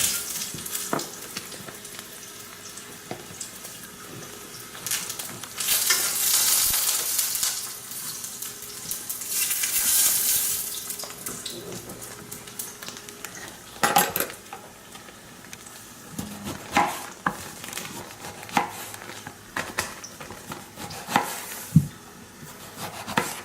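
Ricotta is spooned over an eggplant and deer meat lasagna, with soft close scraping and wet dabs followed by scattered spoon taps and clinks against the dish.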